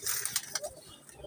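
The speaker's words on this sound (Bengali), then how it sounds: "এই যে একটা অসাধারণ একটা কবুতর" A young pigeon gives a brief low coo close by, with a faint voice murmuring nearby and a little fluttering in the background.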